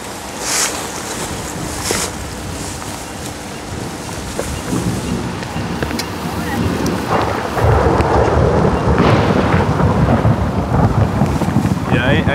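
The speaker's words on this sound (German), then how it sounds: "Regen, schade." Steady heavy rain hisses over rumbling thunder during a sudden change in weather in the Bregenzerwald mountains of Austria, with the downpour growing louder toward the end.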